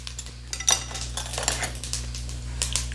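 A cooking pan is handled for a dhaba-style chicken masala, with sharp metallic clinks and knocks of cookware and utensils, close and fairly quiet over a steady low kitchen hum, and no talking.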